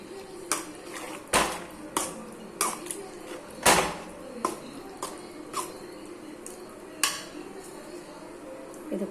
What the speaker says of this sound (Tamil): இப்போ நல்லா இதை மிக்ஸ் பண்ணி விட்டுக்கலாம் கட்டி இல்லாமல்.